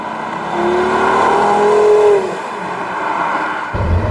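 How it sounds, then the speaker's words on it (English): A Porsche Carrera GT's loud engine roars and revs steadily for a couple of seconds, heard from outside the car, then eases off, with a low rumble returning at the end. "on the outside, it sounds like a race car"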